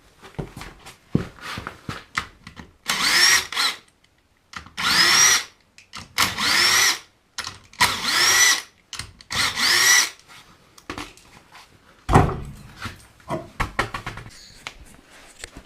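An impact tool on a Subaru Outback fires in several loud bursts of whirring hammering while the wheel comes off, separated by clanks, shuffling and handling noises nearby.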